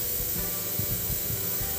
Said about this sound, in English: As you see, I always start spraying outwards before I go inner.